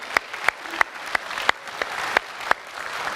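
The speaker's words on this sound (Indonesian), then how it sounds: "Boleh tepuk tangan untuk memulai segmen ini?" Applause from the audience at a 2019 Indonesian presidential debate: sharp, evenly spaced claps roughly three per second over a steady hall murmur, fairly close and moderately loud, with no talking.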